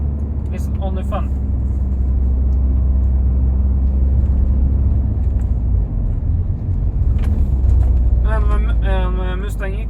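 Steady low engine rumble from a 1997 Honda Prelude with a manual gearbox, heard from inside the car while driving, continuous and fairly loud throughout; a voice speaks briefly near the start and again near the end.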